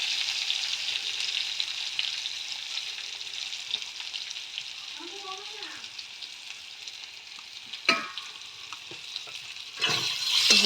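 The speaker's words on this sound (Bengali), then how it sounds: "হলুদ দিয়ে একটু ভেজে নেবো ভালো করে" Potatoes and taro stems fry with turmeric in a pan, giving a steady close sizzle throughout, with a few sharp stirring scrapes and clatters toward the end.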